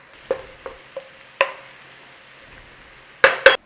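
Onions caramelizing in a pan for a farmhouse-style chicken quiche give a faint, low sizzle. Several soft stirring taps and scrapes punctuate it, ending in two louder scrapes.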